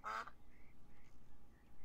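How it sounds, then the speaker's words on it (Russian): One loud, close duck quack opens the scene in the Beyond Eyes game, then softer, thinner calls follow over a quiet background, with no voices. "Вот крякающие создания."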